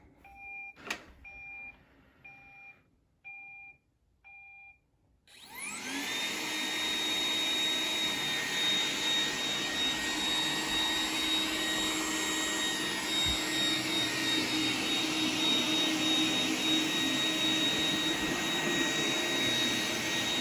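A few short electronic beeps sound, then an iRobot Roomba 980 robot vacuum's motor whirs up into a loud, steady drone that keeps running.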